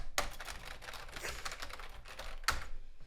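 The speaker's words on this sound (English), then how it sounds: "Doesn't that sound like a typewriter?" Rapid clacking of keys on a computer keyboard with a crisp, typewriter-like snap, a dense run of strokes and a sharp louder hit near the end, close by with no talking.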